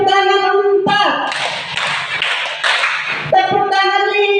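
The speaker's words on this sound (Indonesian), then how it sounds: "tepuk tangan 4" A quick run of claps fills the middle of the clip, sharp and close, with a voice speaking before and after.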